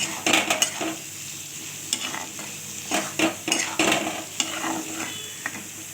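Ginger and raw prawns hit a hot pan for a prawn malai curry, sizzling loudly up close while a utensil scrapes and clinks against the metal in irregular bursts.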